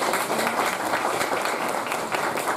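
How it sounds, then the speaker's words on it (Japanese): Audience applause fills a school festival classroom concert, a dense, steady wash of many hands clapping close by for the whole stretch, with no voices on top. "僕らの時だけ拍手がありますね。"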